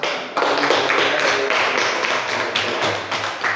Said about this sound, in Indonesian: Baik, terima kasih kepada kelompok 3. Kita berikan aplaus.